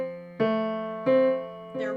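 Piano left hand plays the Mozart Arietta up-stem notes together with the bottom eighth notes, giving three struck, ringing low tones in quick succession, close and clear.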